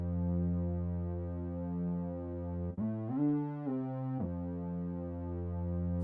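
Chorus from a Universal Audio Studio D plugin on an instrument track in an indie rock mix, a sustained harmonic tone that widens and smooths, with a brief shimmering, wavering passage in the middle before settling back to a steady drone.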